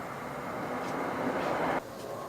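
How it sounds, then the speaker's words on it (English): Train passing by a house with a plane flying overhead: a continuous low rumble that swells to a peak and then drops off abruptly, heard alone and fairly muffled. "Train went by my house and then a plane flew overhead and you couldn't hear me"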